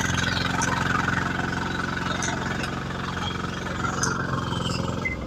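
A small tractor engine idles steadily nearby, a low chugging drone with a faint rhythmic knock, a few light clinks over it.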